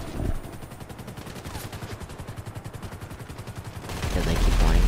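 Automatic gunfire from a weapon in Grand Theft Auto V, a steady rapid stream of evenly spaced shots lasting several seconds and growing into a louder, denser roar of noise toward the end.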